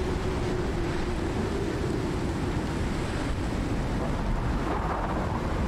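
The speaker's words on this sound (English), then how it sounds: "Okay, so the worst part of the storm's coming up." A fierce storm in the survival game Icarus roars steadily with dense, wind-driven noise and deep rumbling thunder, filling the whole scene loudly without pause or speech.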